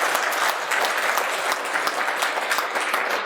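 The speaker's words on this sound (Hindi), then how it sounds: "अपने सौभाग्य के लिए एक बार जोरदार अभिनंदन करिए" A hall full of listeners at a Hindi spiritual talk breaks into sustained, hearty applause, dense and even with individual claps ticking through, loud and close with no voice over it.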